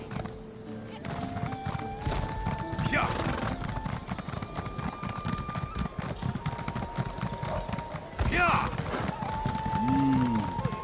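Horse hooves galloping in a steady clip-clop rhythm in The Elder Scrolls Online, continuous and moderately loud, with game music tones and spoken voices over the hoofbeats.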